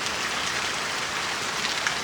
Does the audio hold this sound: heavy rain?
yes